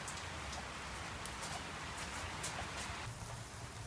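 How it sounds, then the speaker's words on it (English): Heavy rain pours down steadily outdoors, a dense, even hiss of drops hitting surfaces with a few slightly louder splashes, continuous and fairly close throughout. "It's raining hard."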